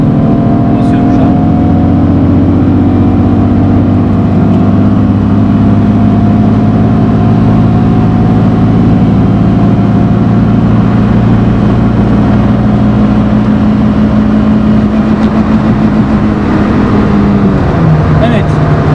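Peugeot 106 Quiksilver straining hard in third gear, its engine drone steady and loud with rising harmonic bands throughout, heard from inside the car as it pushes toward top speed.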